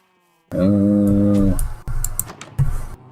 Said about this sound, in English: What are y'all doing, cows?